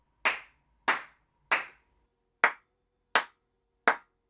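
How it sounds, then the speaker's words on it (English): Six single hand claps in a small room being tested for acoustic treatment, each a sharp crack with a short decaying tail, evenly spaced about half a second to a second apart against near silence. "I'm going to clap and just stick the audio on top of it."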